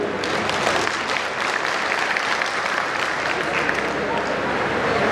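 Audience applause at a Hindi comic poetry gathering, a hasya kavi sammelan, a dense steady wash of clapping that stays loud and even through the whole stretch, with no voices coming through.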